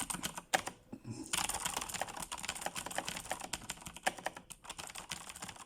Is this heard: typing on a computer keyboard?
yes